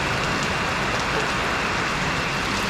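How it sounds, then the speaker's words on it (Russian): A heavy tropical downpour in the Maldives pours steadily and loudly, a dense, unbroken wash of rain hitting surfaces nearby. "Ну вот так попали опять под ливень тропический"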